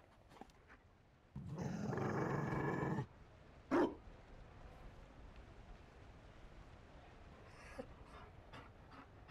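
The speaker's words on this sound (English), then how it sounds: "You... found a dog? They don't breed Mabari in Olay." A Mabari war dog in the Dragon Age video game pants heavily for about two seconds, followed by a short, sharp growl or bark, with a few faint noises afterward and no talking.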